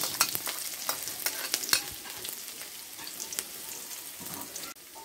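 Onion frying in hot oil, a soft continuous sizzle broken by sharp scraping taps of a utensil stirring the pan, fairly quiet and close with no voices.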